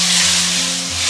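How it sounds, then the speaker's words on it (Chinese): Crab frying in hot oil in a heated iron wok over medium-high heat, a loud, continuous sizzle and crackle heard close up with no talk. "然后下入螃蟹，保持中大火煎"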